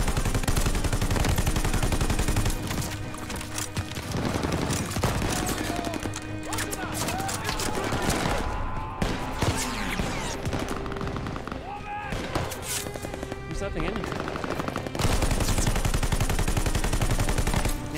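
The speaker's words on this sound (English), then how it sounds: "This bar gun kicks like a mule." BAR automatic rifle bursts in Call of Duty Vanguard, loud and repeated over a dense wartime battle mix with other gunfire, explosions and shouted voices throughout.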